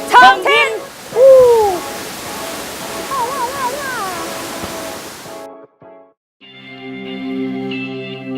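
A steady broad rush from Tat Huay Khai waterfall fills the first five seconds beneath a voice, then drops away into quieter tonal sounds.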